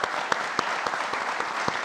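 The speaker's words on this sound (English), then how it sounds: "I would like to join me in welcoming them with a very warm applause" Brief burst of dense, steady applause from a conference audience welcoming guests at an international treasury summit, with a few sharper claps standing out.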